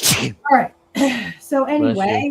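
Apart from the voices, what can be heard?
sneeze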